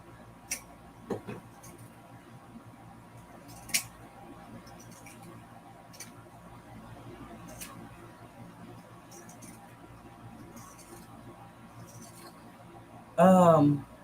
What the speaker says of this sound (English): I'm gonna just use my pinking shears to cut this down